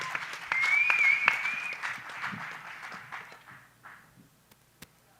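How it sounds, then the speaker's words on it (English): Audience at the AfricArena Grand Summit pitch event bursts into applause, a dense wash of clapping that is loudest at first, then thins out and fades over several seconds, with a few scattered claps and faint voices at the end. "So please, a round of applause."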